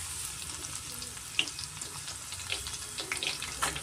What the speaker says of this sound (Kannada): ಅದೇ ನೆಟ್ ಯೂಸ್ ಮಾಡ್ಕೊಂಡು ನಾವು ಬೆಳ್ಳುಳ್ಳಿ ಮತ್ತು ಕರಿಬೇವು ಸೊಪ್ಪನ್ನ ನಾವು ಫ್ರೈ ಮಾಡ್ಕೊಳ್ಳೋಣ ನೀಟಾಗಿ.